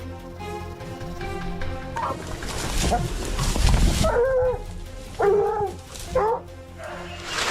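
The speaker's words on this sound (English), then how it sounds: "I suddenly heard the hunting dogs barking, their sound growing louder by the second" Hunting dogs bark and yelp in a few sharp bursts over a rumbling, noisy forest background, the calls fairly close and loud.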